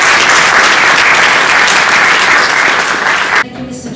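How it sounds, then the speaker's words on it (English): A workshop audience gives the behind-the-scenes technicians a loud, steady round of applause that fills the room and cuts off sharply near the end, leaving a brief quieter moment. "So I think they deserve a big round of applause for these technicians behind the scene."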